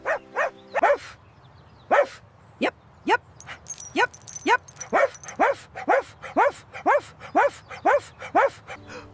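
A puppy barks again and again in a steady run of sharp, rising yips, close and clear, with brief quiet gaps between each bark.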